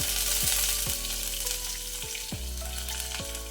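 Green chilli, ginger pieces and fenugreek seeds fry in a pan, a steady crackling sizzle up close, broken by several sharp scraping stirs of a spoon against the metal, with no talking.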